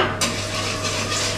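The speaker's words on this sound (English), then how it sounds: "You can hear it sizzle up." Warm milk for béchamel sizzles in a hot pan with a steady bright hiss, joined by a sudden scrape of stirring; no one speaks.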